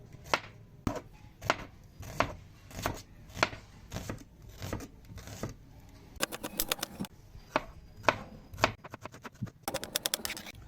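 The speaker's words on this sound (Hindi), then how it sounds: "प्याज को भी बिल्कुल लंबाई में काटेंगे हम।" A knife chops onion lengthwise on a board for potato spinach pakoras, giving repeated sharp taps at an uneven pace with faster bursts near the end. The cuts sound close and fairly quiet, with no talk.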